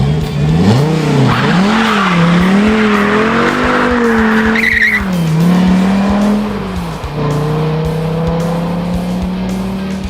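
A 2010 Dodge Viper SRT10 ACR with its 8.4-liter V10 racing in a Need for Speed game: a loud, close engine note rising and falling through gear changes, with tire squeal over a steady drone and no talk.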